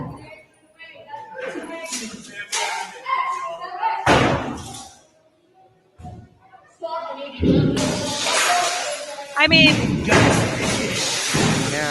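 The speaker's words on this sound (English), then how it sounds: "it sounds like they're smashing the bottom windows of those doors" Protesters smashing the lower glass panes of doors: repeated loud bangs, thuds and crashing glass in irregular bursts, with people talking between and over the impacts.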